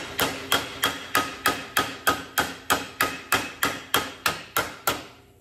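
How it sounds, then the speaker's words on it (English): Steady hammer strikes bending sheet metal for a 1981 Z28 quarter panel, about fourteen evenly spaced ringing blows, each with a short metallic decay, close and fairly loud. "I was told you hammer where you're bending"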